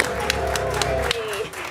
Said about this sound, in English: We wanna give them a round of applause too.